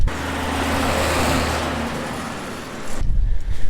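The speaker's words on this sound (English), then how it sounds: "I'm going like 9 miles per hour through the field right now" A lifted John Deere 6000 sprayer rolls through a field at about 9 mph, its engine a steady loud hum that gives way to a rougher, bumpier rumble near the end.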